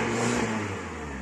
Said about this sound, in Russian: тарахтит, пока холодная, можно крутить ее. Вот она работает, патрубок оборвала.